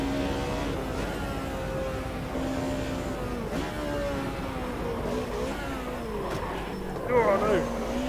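A naturally aspirated touring car in the Automobilista 2 racing game revs and shifts, its engine note rising and dropping through gears, with someone talking over it throughout.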